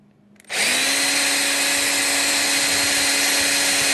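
A power drill bores holes through a snowboard being turned into a roof rack wind fairing, starting after a brief quiet moment and then whining steadily and loudly at high speed with no pause.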